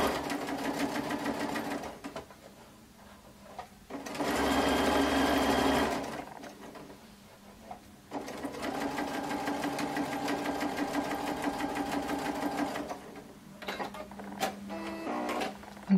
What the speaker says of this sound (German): Und jetzt steppen wir das Schrägband auf der rechten Seite